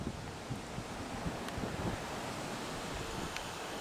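Strong wind blowing beside the Razdolnaya river, a steady rushing roar buffeting the microphone for the whole stretch, with no voices.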